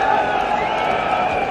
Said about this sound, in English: They've really made their presence felt in this enormous crowd